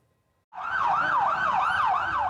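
Ambulance siren wailing in Beirut, a loud continuous rising-and-falling tone that starts abruptly and holds steady without talk.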